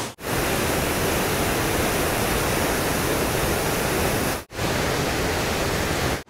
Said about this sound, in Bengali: আর নিচে তীব্র স্রোত আকারে এই জল বয়ে যাচ্ছে এই দিকে।